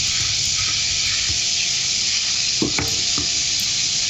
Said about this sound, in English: I'm just going to begin by browning the ground beef.